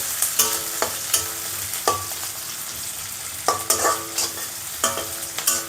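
Finely chopped onions fry for carrot chitranna, a steady close sizzle punctuated by repeated sharp metallic clinks and scrapes of a spoon stirring against the pan.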